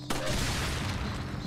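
Gunfire setting off an explosive carried by an enemy in Resident Evil 4, a dense continuous burst of shots and blast noise filling the whole moment, loud and close.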